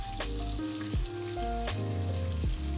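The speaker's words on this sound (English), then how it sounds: "we're gonna let these fry in here for at least 5 minutes to get a nice golden brown crust" Cauliflower pieces deep-fry in a frying basket, giving a steady crackling sizzle over background music.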